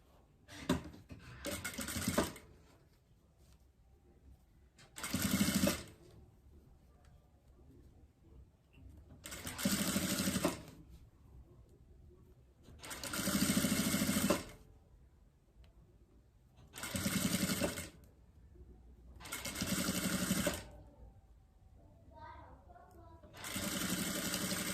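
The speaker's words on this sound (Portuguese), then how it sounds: "vou posicionar ela aqui de baixo e vou passar uma costura" Sewing machine stitching lace trim onto fabric for a diaper holder, running in six loud bursts of a few seconds each, separated by quieter pauses with faint handling noise.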